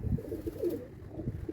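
A pigeon coos close by in a few soft, low, throaty rolling phrases, quiet and alone without talk.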